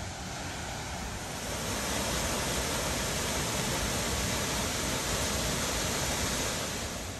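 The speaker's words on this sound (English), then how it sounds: "This is an underrated waterfall for sure at Yellowstone." A waterfall in Yellowstone National Park gives a continuous, close, full-bodied roar of rushing water that barely changes from start to finish, with no talk.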